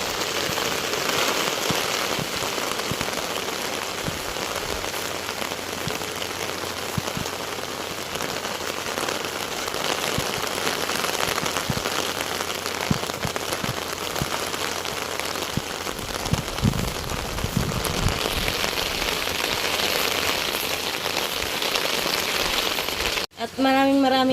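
Steady rain pours onto surfaces outdoors, a dense continuous patter with occasional heavier drips, loud and close throughout, ending in a brief clatter.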